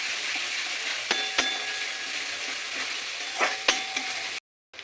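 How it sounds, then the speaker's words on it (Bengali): Ground spices and garam masala stirred in a hot frying pan while making palak chicken, a steady sizzle broken by a few sharp scrapes and clicks of the spoon, then a brief cutoff near the end. "গরম মশলা ভালো করে আমি একটু নেড়ে চেড়ে নেবো"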